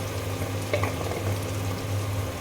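Garlic, cumin, ginger and almond pastes fry together in oil with whole cinnamon, cardamom and cloves, making a steady close sizzle over a low electrical hum, with one brief crackling flare. There is no speech.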